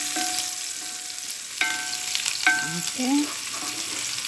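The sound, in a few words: garlic and onion sautéing in a pan for butter crabs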